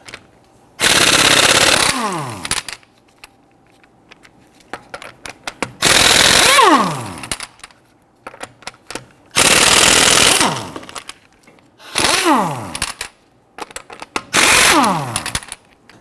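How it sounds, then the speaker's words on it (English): A pneumatic impact wrench with a 19mm socket loosens lug nuts on a 2010-2019 Ford Taurus front wheel in five loud, rapid hammering bursts, each trailing off in a falling whine, with quiet gaps between them. "we're going to use our 19mm socket to loosen and remove our lug nuts"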